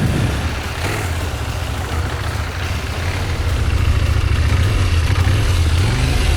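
An adventure motorcycle running steadily on a test track, its engine holding a continuous, loud mid-range drone with gently shifting pitch and heavy wind and road rush throughout.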